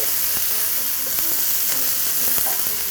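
Curry leaves and sliced onions fry in hot oil with a steady, loud, dense sizzle, broken by faint stirring clicks, and no one speaks.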